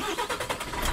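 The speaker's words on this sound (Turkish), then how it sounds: "Dilerseniz otobüsümüzü bir çalıştıralım." Mercedes-Benz Travego Special Edition SHD 17 coach in Euro Truck Simulator 2 starting its engine, a quick pulsing chug of cranking that settles into a low running rumble, close and alone.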